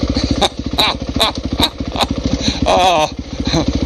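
A trail motorcycle rides along a wet, green summer trail, its engine chugging loud and close with steady rapid firing pulses and brief throttle swells, while a rider talks over it.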